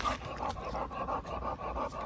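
A German hunting dog pants rapidly and steadily, a rhythmic breathy huffing that is close but fairly soft, with no voices over it.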